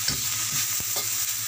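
Tomatoes are stirred into chowmein frying in a wok, producing a loud, close sizzle with scraping from the stirring spatula throughout.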